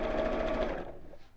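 An Elna sewing machine stitching in a short, fast mechanical run of needle strokes that slows and stops after about a second.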